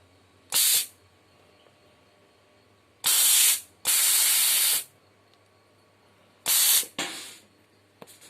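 A mini air compressor blowing air for desoldering: four sharp, loud hissing blasts of compressed air, each lasting under a second to about a second, separated by quiet gaps with a low background hum.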